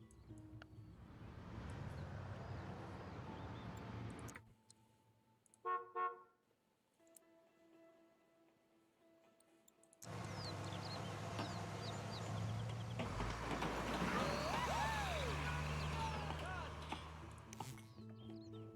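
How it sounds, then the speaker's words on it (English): City ambience in the SimCity video game as a moving truck arrives: engine rumble with a short horn toot and bird chirps, then a quiet gap before a louder, busier wash of traffic noise returns. "Here comes a moving truck."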